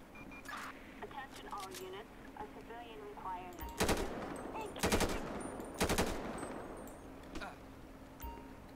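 Rifle gunfire rings out in GTA 5 during a police shootout with criminals: after some talk, three loud, rapid bursts arrive about a second apart, followed by a few fainter single shots.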